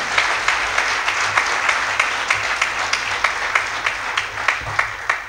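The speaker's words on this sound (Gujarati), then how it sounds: "જોરદાર તાળી" An audience applauds together in a continuous burst of clapping, dense and even, with rhythmic pulses running through the whole stretch, fairly loud and without speech.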